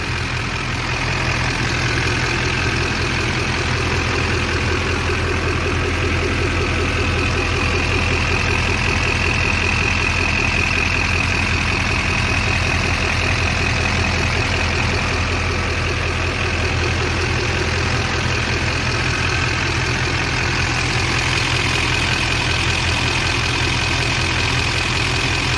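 Diesel engine idling steadily and loudly up close, a constant low drone with even mechanical clatter throughout and no distinct injector tick standing out, running alone without voices.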